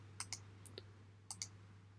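A computer mouse clicking in quick pairs, about six sharp, faint clicks spaced across two seconds over a low steady hum.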